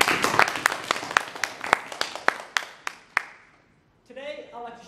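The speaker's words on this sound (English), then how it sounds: "Please give yourself a round of applause." Sparse audience applause in a presentation room, a handful of sharp, rhythmic claps that slow and stop, followed by a voice beginning to speak.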